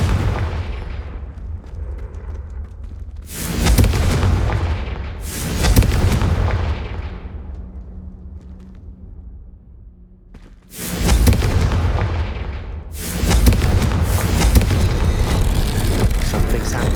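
Confringo blasting spells exploding in Hogwarts Legacy, four heavy booming blasts arriving in two pairs, each with a loud crack and a long rumbling decay, separated by quieter gaps.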